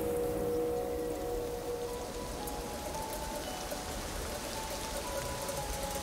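Steady rain falling in the climbing game Jusant, a dense hiss of drops on surfaces, continuous and even throughout with no voices.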